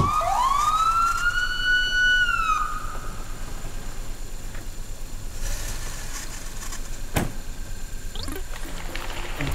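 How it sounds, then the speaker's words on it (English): A single siren wail sweeps upward and holds, then fades out, leaving steady background hiss with a couple of brief clicks. "It's all like police sirens."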